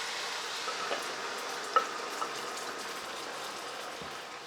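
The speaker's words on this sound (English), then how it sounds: "as soon as the garlic starts sizzling" Steady, quiet sizzle of garlic frying in olive oil, a soft continuous crackle with a few faint clicks and taps over it.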